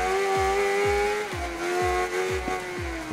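A carbureted Honda Hornet 600 motorcycle in Ride 3 drones at a high, steady engine note, dipping with several quick downshift blips in a row, loud and alone.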